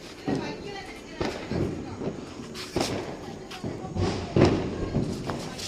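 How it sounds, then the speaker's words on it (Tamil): Diwali firecrackers burst in a series of sharp bangs and thuds, several loud reports spaced a second or so apart with crackle between them, while people talk in the background. "வேறு மாதிரி இன்னும் ஒரே ஒரு வெடி தான் இருக்குது."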